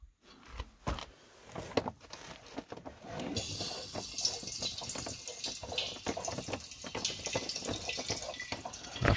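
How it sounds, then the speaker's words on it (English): Water rushes from an opened valve into a tank in a thermodynamics project, starting with a few clunks and bursts, then settling into a steady, quiet hiss of filling that builds slightly toward the end. "open this valve and fill the tank up with water."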